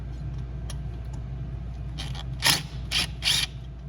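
Screws being unscrewed with a ratcheting tool to take apart the fan section of a Vevor diesel heater, three short metallic clicking bursts near the end over a steady low background hum, close up with no speech.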